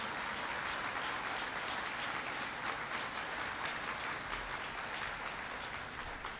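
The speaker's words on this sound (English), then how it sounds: "That's worth applauding." Steady, dense applause from a crowd at a presidential speech on American energy, a continuous even roar of many hands clapping that holds at a constant level throughout without voices.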